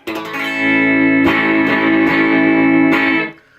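Distorted electric guitar chord fretted with a thumb grip, strummed loud and sustained with a few sharp re-strikes before it is choked off.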